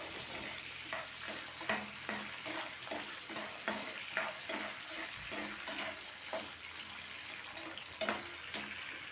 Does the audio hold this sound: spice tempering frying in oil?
yes